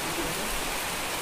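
Rain falls steadily around a cottage at the Sasoni Merbeel eco tourism site, a soft, even hiss of drops with no voices.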